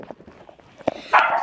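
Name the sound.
dog barking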